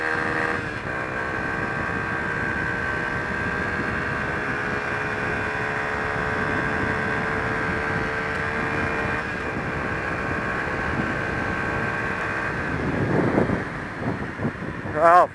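Yamaha FZ150 motorbike drag racing flat out to the rev limiter, a steady sustained engine drone with strong harmonic whine and wind rush, rising and shifting near the end.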